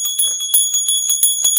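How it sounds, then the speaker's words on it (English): A small bell used in a spiritual ritual rings in quick repeated strikes, bright and close, each ring sustaining into the next at a steady rhythm. "sometimes I use a bell."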